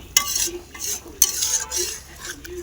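Cooked spice paste being stirred and mixed with water in a pan, with metal utensil clinks and scraping strokes alongside a soft sizzle, close by.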